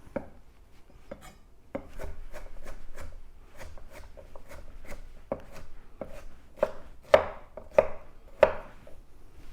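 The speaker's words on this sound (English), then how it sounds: "Cucumbers. Slice the ends off. Gonna cut these in half. And again, nice and small." A knife chops cucumber on a cutting board in a run of crisp, close thuds at an irregular pace, ending in a few louder, sharper strikes.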